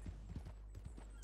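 Horse hooves clip-clop on the ground as a rider gallops in Red Dead Redemption 2; a quick, uneven run of muffled hoofbeats, close and steady, with no voices.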